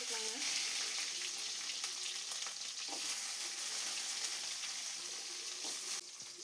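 Shallots sizzle steadily in hot oil with chana dal and fennel seeds, a dense continuous frying hiss with occasional stirring scrapes, close and fairly loud, briefly easing near the end.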